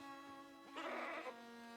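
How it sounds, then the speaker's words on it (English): A goat in a video game gives one short, faint bleat in the middle of the clip, over a steady tonal hum of background game music. "am I supposed to find a missing goat?"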